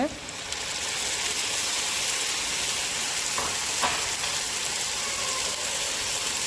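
Tomato hits a hot pan of beef meatball curry and fries in a loud, steady sizzle. Faint stirring scrapes break through the constant crackle.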